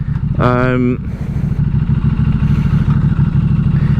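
A 2023 Norton Commando 961 SP motorcycle engine rumbles low and steady while riding, with a brief voice or horn-like tone near the start over the continuous chug.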